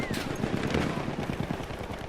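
Rapid automatic gunfire from a weapon in Battlefield 1, a dense continuous stream of shots filling the whole stretch, loud and close with no pauses.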